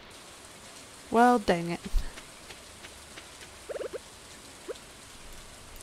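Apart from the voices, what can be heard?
rain falling in Stardew Valley video game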